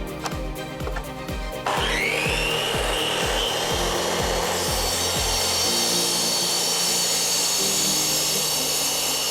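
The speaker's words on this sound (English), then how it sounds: "Next, I'm gonna cut the Bakau tree trunk into slices using a miter saw." Miter saw slicing through a Bakau mangrove tree trunk, starting with a series of rhythmic knocks, then the blade spooling up into a loud, sustained high whine and grinding cut through the wood, with no talking.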